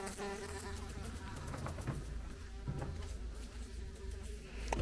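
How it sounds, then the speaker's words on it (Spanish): A large blowfly buzzes close by indoors on a summer day, a steady droning hum running through the whole stretch with slight swells in loudness, no voices over it. "Mirad el cacho moscardón."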